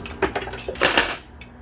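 Quarters clatter and jingle as they drop into a coin pusher machine, a quick cluster of metallic drops, with a few scattered clinks trailing off at the end.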